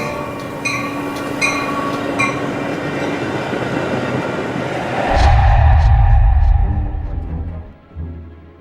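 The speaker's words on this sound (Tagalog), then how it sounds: "Sa wakas, ayan na. Andito na yung tren." A train rumbles into a station, a steady rail roar building until a loud low-frequency surge of the arriving cars near the end, with a few brief high squeals of the wheels.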